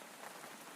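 Steady rain falls on a surface as a soft, even patter, faint and continuous with no voices.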